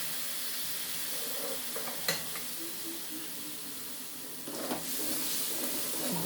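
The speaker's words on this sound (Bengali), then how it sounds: "দিয়ে আমি খুব সুন্দর করে কষিয়ে নেব সমস্ত মশলাগুলো" Spices sizzling in hot oil as they are sautéed for small-potato aloo dum, a steady soft frying hiss with a couple of brief stirring clatters, close by and alone with no talk.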